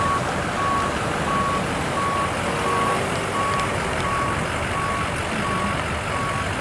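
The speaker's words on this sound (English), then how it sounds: "The red truck's pulling out." A red truck pulls out with a steady electronic reversing beep pulsing at regular intervals, set over a low engine rumble and broad outdoor background noise.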